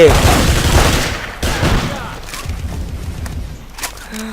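Gunfire in the video game Battlefield 2142, a loud volley of shots that fades into scattered distant pops and booms, with a voice briefly shouting over it.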